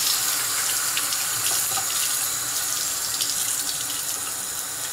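A tap runs steadily to rinse a straight razor blade, making a continuous close hiss and splash of water at a constant level throughout.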